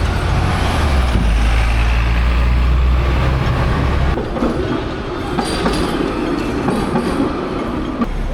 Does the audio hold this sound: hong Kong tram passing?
yes